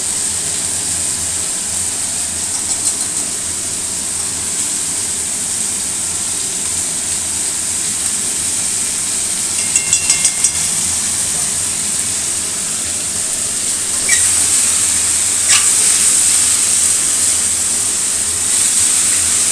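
Ghee sizzles in a hot pan while cauliflower cooks, making a steady, loud hissing with small crackles and pops scattered through it and no talking.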